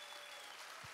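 Audience applause fills a school collage concert, a dense steady wash of many hands clapping at even loudness for the whole second, with no voices standing out.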